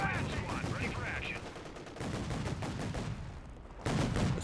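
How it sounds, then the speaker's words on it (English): Machine gun nest firing in Company of Heroes 3, set in the Italian campaign: dense, continuous bursts of automatic gunfire with scattered shots, steady and loud throughout, with a voice briefly talking over it. "Machine gun nest."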